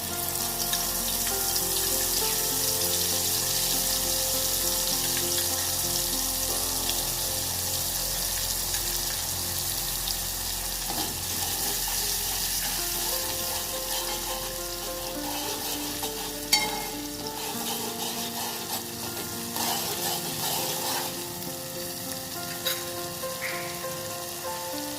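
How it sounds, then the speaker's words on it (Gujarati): Chutney tempered with asafoetida and curry leaves sizzles steadily in hot oil for Kathiyawadi dahi tikhari, a continuous close frying hiss with faint stirring clinks and no talk. "અડધી ચમચી હિંગ, 2-3 મીઠા લીમડાના પાન, દહીં તિખારી માટેની ચટણી એડ કરીશું।"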